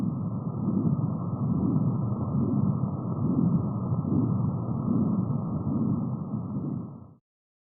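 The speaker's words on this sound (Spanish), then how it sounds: "Este es el sonido de un riñón sano." Sonified rendering of a healthy kidney: a steady, dense low rumble with slow swelling pulses, continuous and even for about seven seconds before stopping abruptly, with no voices.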